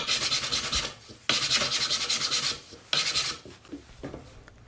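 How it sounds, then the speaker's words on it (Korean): Sanding wooden plugs glued into screw holes on a woodworking project: steady raspy rubbing strokes in three long bursts with short pauses, close and alone. "샌딩을 합니다."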